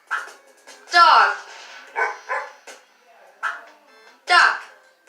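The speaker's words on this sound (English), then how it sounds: "Dog." A dog barks several times in short bursts with brief yips between, close and fairly loud, with no other sounds around.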